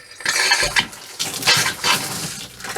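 An RV water tap runs pink antifreeze through the lines during winterizing. A close, loud rush of water sputters and surges unevenly, as if air is breaking through the flow.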